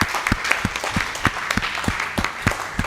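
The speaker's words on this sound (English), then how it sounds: "A big round of applause." A small group at the US Snooker Masters 2025 in a Sacramento snooker and billiards club gives a round of applause, with distinct, separate hand claps that ring out clearly and fairly close.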